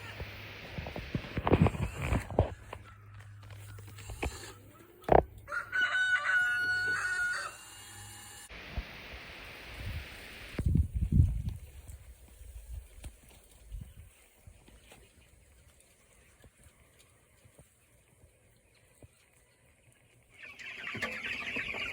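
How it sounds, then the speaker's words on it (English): Meat chickens cluck and a rooster crows in bursts while being moved to a chicken tractor, with thumps and rustling handling noise between quieter stretches. "get busy moving these chickens over to the chicken tractor"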